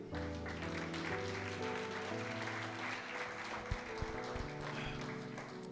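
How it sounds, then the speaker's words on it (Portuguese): A church congregation applauds during a sermon, a steady wash of many hands clapping at moderate distance, sustained for several seconds with a few sharper claps near the end. "Você pode aplaudir o Senhor?"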